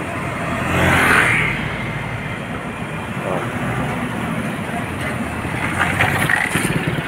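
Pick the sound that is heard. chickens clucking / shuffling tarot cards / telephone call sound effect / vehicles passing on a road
vehicles passing on a road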